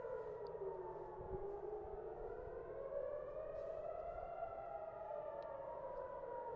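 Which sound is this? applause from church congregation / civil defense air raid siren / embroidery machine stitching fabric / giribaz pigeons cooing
civil defense air raid siren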